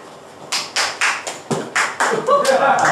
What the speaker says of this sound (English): A round of applause for our headliner Yanni on 3, 1, 2, 3.